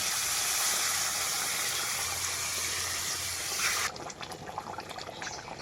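Spice-rinsing water pours into a pan of chicken curry as a steady, close gushing rush that stops abruptly near the end, leaving quieter bubbling and faint clatter.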